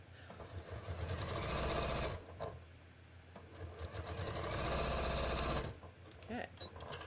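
A sewing machine runs a straight edge along a tee sleeve near the wrist, its steady, close mechanical whir in two long bursts separated by a short pause, with a brief stop before the end.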